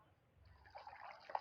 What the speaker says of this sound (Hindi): खत्म हो रही है पानी की बाल्टी और